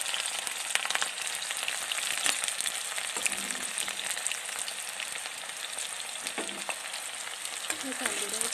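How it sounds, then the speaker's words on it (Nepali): Onions for homemade veg chow mein frying in hot oil, a loud, bright, continuous sizzle with crackling pops and brief stirring scrapes close by, no speech. "यहाँ अब मैले यसमा प्याज हालिदिएँ।"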